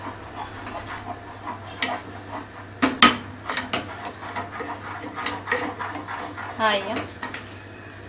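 Cheese being stirred into a savoury crepe filling in a pan, with scraping and clinking of a utensil against the pan under a woman's speech, plus a sharper knock partway through.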